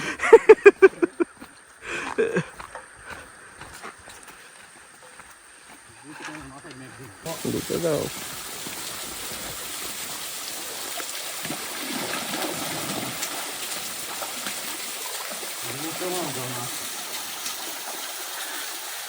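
Rushing water from a full waterfall in Bandarban fills the background in a constant hiss, with people talking at the start and occasional voices over the flow.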